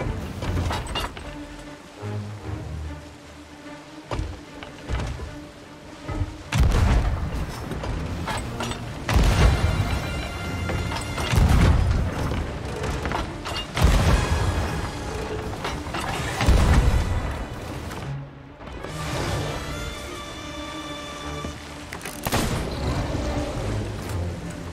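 Ship cannons firing in Sea of Thieves during a megalodon fight, several heavy booms spaced through the passage over creaking timber and sloshing water, loud and close with no voices.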